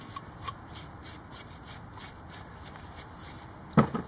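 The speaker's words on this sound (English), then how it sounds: "you're just going to clean the surface rust off where they were sitting" A brake pad bracket on a Mitsubishi Lancer scrubbed to clear surface rust, heard as rhythmic scraping strokes close to the microphone, ending in one sharper knock.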